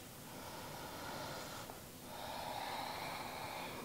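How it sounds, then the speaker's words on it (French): Slow, controlled Ujjayi breaths during yoga practice, a soft, close, ocean-like hiss drawn through the throat, one long breath followed by a brief pause and another steady breath, with no talking. "revenir sur un souffle plus long, peut-être votre respiration Ujjayi"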